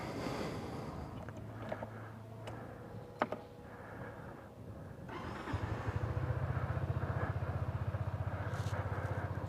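A Kymco Downtown 250cc scooter is started, with a few clicks and brief ticks before the engine catches and settles into a steady, close, low idle putter.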